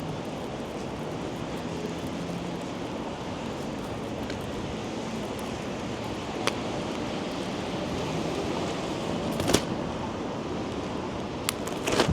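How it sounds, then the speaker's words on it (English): Gusty wind blows steadily on a rainy evening city street walk, a broad continuous rush with brief stronger bursts near the end. "As the wind decides to gust out of nowhere."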